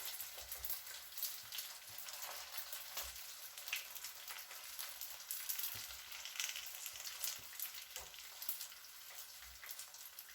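Chicken tandoori pastillas fry in hot oil with a steady, dense sizzle and crackle, close and continuous, scattered with small pops throughout.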